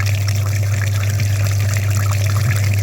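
Water runs steadily over a very dirty car heater core being flushed clean, a loud continuous rush with a low hum underneath.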